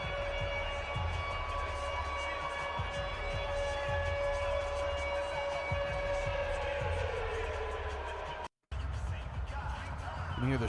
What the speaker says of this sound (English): You hear the Shark siren